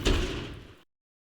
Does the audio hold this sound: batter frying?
no